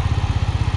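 A 2022 TVS Apache RTR 200 4V Race Edition 2.0 motorcycle idles close by, its engine thumping in a quick, even, steady pulse with no other sound.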